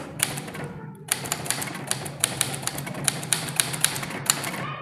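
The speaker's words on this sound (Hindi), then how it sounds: "अब मैं अपने पैराग्राफ को टाइप करने के लिए रेडी हूं, और अब मैं इसे टाइप करना शुरू कर देता हूं।" Typing on a manual typewriter, with a steady run of sharp mechanical key strikes and small bell-like clicks after a brief pause near the start, close and clear with no talking.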